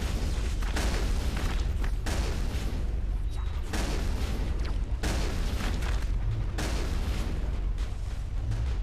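Grenade blasts and booming gunfire in the Mass Effect video game, a continuous dense battle din with repeated heavy bursts across the clip and a voice faintly mixed into the action.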